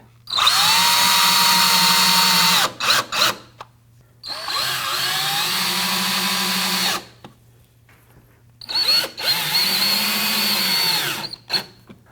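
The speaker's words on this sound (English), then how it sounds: "taking these screws here and fastening the tabletop to the work stand" A power drill drives screws into a wooden work table top in three long, loud, whining bursts, each winding down sharply, with quiet gaps and brief trigger blips between them.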